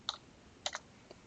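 Quick keystrokes on a computer keyboard as a name is typed into a search field, three to four sharp, close clicks in short bursts with quiet gaps between them.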